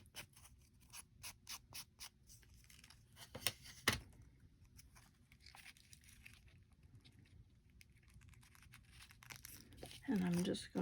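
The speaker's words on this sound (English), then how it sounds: "I'm going to use a piece of paper. I'm going to fold it in half." A sheet of paper is folded in half, with soft crinkling, rubbing and a few sharp creasing snaps up close, and a voice speaking quietly at times.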